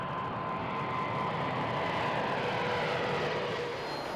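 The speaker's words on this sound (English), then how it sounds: "She must undergo a series of grueling test flights before delivery." A Boeing 747 jet airliner on a test flight roars with a steady, loud broadband engine drone that holds constant throughout.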